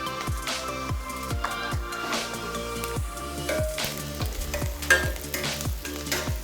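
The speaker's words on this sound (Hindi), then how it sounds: "तो मैं थोड़ा सा इसमें अजवाइन डाल देता हूँ, और थोड़ी सी मैं हींग भी ऐड कर देता हूँ।" Ajwain and asafoetida frying in a pan with onions and garlic browned to golden, giving a continuous loud sizzle broken by repeated stirring scrapes at a steady rhythm, close by with no talk.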